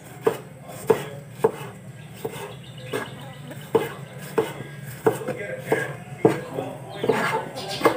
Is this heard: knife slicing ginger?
yes